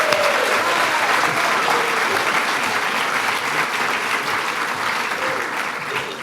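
Steady, dense applause from an audience at a July 4th gathering at the National Archives, loud and sustained throughout with no break, slowly tapering a little near the end.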